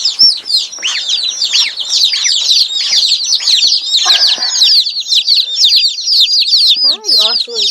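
Dense, high-pitched peeping of a brood of newly arrived chicks and a gosling fills the whole stretch, rapid overlapping chirps close by, with a few lower, wavering calls near the end.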